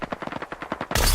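Automatic gunfire in the video game Ring of Elysium: a rapid string of about a dozen close, sharp shots in steady rhythm, ending in a louder, sustained burst.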